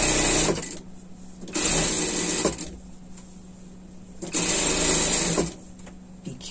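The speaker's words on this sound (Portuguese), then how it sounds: "E vamos passar uma costura de segurança aqui." Sewing machine stitching a safety seam on a sling bag, three close, loud bursts of rapid whirring separated by quiet pauses.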